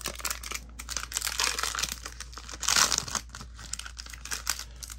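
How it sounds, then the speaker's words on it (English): Foil wrapper torn off a Panini trading card pack: close, crisp crinkling and ripping in uneven bursts, loudest near the middle, with no one speaking. "take off the foil there"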